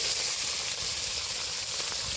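Fish frying in a pan in a home kitchen gives a steady, even sizzling hiss that holds without pause throughout, with no talking over it.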